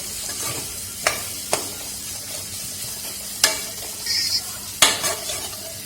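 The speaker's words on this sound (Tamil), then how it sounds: "அதுவும் வந்து வெங்காயத்தோட எல்லா இன்க்ரீடியன்ஸோட நல்லா மிக்ஸ் ஆகணும்." Onions with sambar powder are stirred in a frying pan while making chilli chapathi. A few distinct spoon scrapes and clacks sound over a low, steady sizzle, with no talking.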